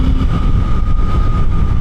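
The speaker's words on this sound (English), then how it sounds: "Just kind of fanning through the gears there." A Suzuki GSX8R motorcycle engine drones loud and steady while running up through the gears with a quick shifter, wind rush and road noise blending into a constant close roar.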